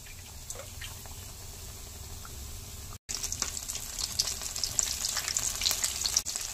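Mangalore-style masala vada fry in hot oil with a steady bubbling sizzle that briefly cuts out, then returns brighter and louder with crisp crackling spatter.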